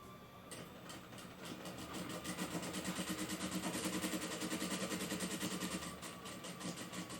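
A sewing machine stitches knit fabric for a cloth doll, a steady, rapid, rhythmic mechanical chatter that runs quietly and evenly throughout, with no voices.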